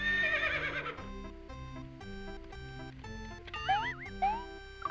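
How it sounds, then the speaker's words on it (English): Cartoonish synthesized horse whinny from the SNES game Mario's Early Years: Preschool Fun, warbling high neighs over a bright, chiming music backing, with no voices. "You chose the horse."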